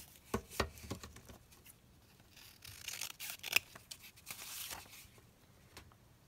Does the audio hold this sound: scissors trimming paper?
yes